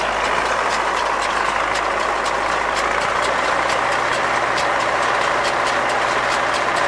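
A tractor engine runs steadily while baling and wrapping haylage, a loud, constant drone with faint rhythmic clicking over the top and no voices.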